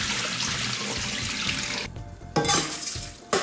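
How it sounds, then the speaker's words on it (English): Rice is rinsed under a running tap, a loud water rush that briefly cuts off and restarts with a clatter of a pot. "I know that you're supposed to clean rice with cold water"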